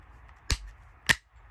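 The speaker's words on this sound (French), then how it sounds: "On enclenche le chargeur." A magazine clicks into a Walther PPQ Q4 M2 airgun pistol: two short, sharp metallic snaps about half a second apart, close and fairly loud over a quiet background.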